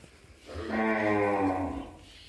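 A healthy Sahiwal-Gir cross heifer gives one loud, drawn-out low moo of about a second and a half, close by with no talk.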